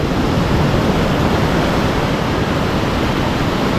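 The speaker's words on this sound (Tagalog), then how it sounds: "Malakas pa naman yung alon no." Strong ocean surf breaking on the shore, a loud, dense, unbroken roar of crashing waves close by, with no voices over it.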